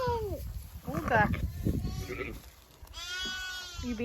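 Ewes and lambs being moved to pasture bleat repeatedly at close range, several overlapping wavering calls rising and falling, mixed with a person talking to the flock.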